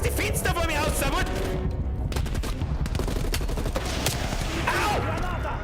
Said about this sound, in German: wer schießt da unten?